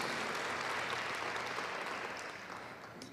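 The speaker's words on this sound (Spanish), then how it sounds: "Dale fuerte ese aplauso al Señor" Applause fills a church service as the congregation claps steadily, a continuous, moderately distant wash of many hands that fades slightly toward the end.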